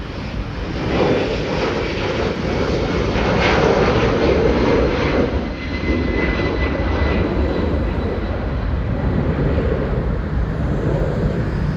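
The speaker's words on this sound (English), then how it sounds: "the Airbus 300 of Invicta Air Cargo, going back to Navoy" An Invicta Air Cargo Airbus A300 jet at Delhi airport roars loudly and steadily, a broad engine rumble with a high whine on top, swelling slightly midway and staying close and dominant.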